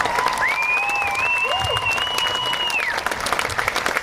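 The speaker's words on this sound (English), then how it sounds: "Give a nice round of applause" A crowd applauds at a high school marching band show, the clapping loud and steady while a long sustained tone and a brief voice-like sweep sound on top.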